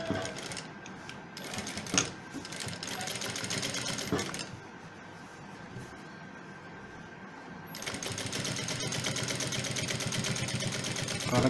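A sewing machine stitches along a shirt edge in quick mechanical bursts of whirring needle chatter, with short pauses between runs and a near, moderately loud sound.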